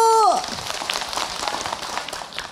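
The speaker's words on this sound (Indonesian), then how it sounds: "Tepuk tangan Bu." Scattered applause crackles from the audience at an Islamic religious study gathering for a couple of seconds, fairly soft and diffuse, following a brief tonal blip at the start.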